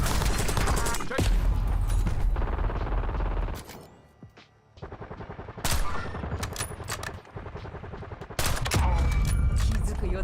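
Loud, dense bursts of automatic gunfire and fusillades from the Call of Duty Warzone video game, firing in long sustained volleys with a short quieter gap between them and faint voices underneath.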